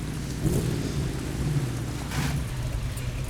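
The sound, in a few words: rain and thunder in the video game The Crew 2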